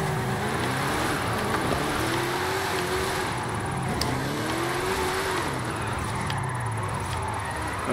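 A 1993 Ford SVT Cobra R Mustang with a 1500 hp AWD drift tune, in a video game, drifts with its engine surging and dipping in pitch. The revving is loud, close and continuous throughout.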